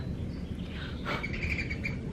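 A small bird chirps close by while feeding, a few high bright calls over a steady indoor background hum, with no talk.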